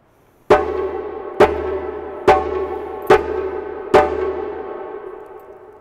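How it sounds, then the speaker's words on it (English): Djembe played with the closed-hand song tone, the fist pressed at the drum's edge, five evenly spaced ringing strikes about a second apart, close and clear, each decaying into a sustained tone, with no talking. "We get the sound song by closing our hand tightly together,"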